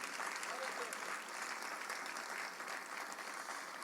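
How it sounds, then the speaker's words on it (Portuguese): A church congregation applauds steadily, a dense wash of many hands clapping at a moderate distance for a few seconds. "Você pode aplaudir o nome do Senhor mais uma vez"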